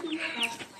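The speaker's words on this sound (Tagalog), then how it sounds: "May manok pala to." A chicken clucks briefly and faintly at a small home gathering, a short burst of throaty calls against soft background noise.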